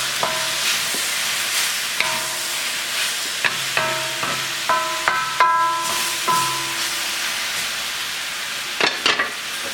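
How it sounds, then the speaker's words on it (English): Spinach wilts in a hot wok under a soft sizzle as a utensil scrapes and clanks against the metal in irregular knocks and rings, close and unaccompanied by talk. "I'm going to cook this spinach down just a little bit."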